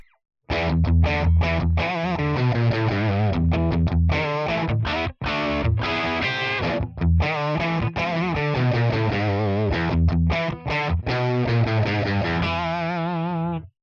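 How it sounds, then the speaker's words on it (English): Electric guitar through a Tonex One Dime amp model with no reverb, a dry, heavily distorted rock tone in tight riffs with short stops, loud and close with no voices. "Let's try the Dime version without any reverb first."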